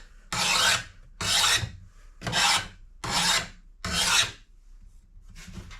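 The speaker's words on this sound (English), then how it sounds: "You take a flat file" A flat file rasps across a chainsaw part held in a C-clamp to remove burrs, five loud close strokes in a slow steady rhythm with brief gaps, then a lighter final scrape, no voices.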